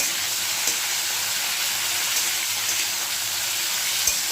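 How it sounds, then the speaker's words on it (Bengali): Spice paste (masala) frying in a pan for a vegetarian vegetable dish gives a steady, close, dense sizzle, with a few small pops and spits along the way and no talking. "আমি মশলাটা সুন্দর করে ভেজে নেবো"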